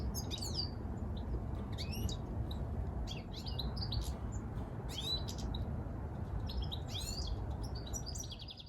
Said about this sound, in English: There are goldfinches singing in this tree